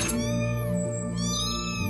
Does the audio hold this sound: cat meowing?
yes